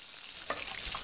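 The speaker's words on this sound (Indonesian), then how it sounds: "Apa yang kau goreng tu? Telur ikan." Fish roe frying in a pan gives a soft, continuous sizzle, with a brief stir or clink partway through and no voices.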